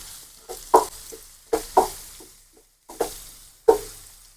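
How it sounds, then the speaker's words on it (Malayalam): Sliced onions with salt sautéed in an open pan for Angamali-style pork, quiet background with a series of sharp spoon scrapes and stirring knocks against the pan, about six strokes, close by. "സവോള ഇട്ടു ഉപ്പിട്ട് കഴിഞ്ഞാൽ നന്നായിട്ട് വഴറ്റിയെടുക്കാം"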